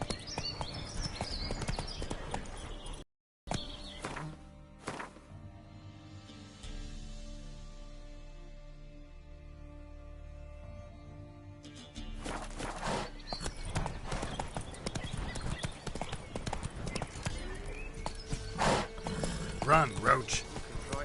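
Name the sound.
horse Roach galloping in video game The Witcher 3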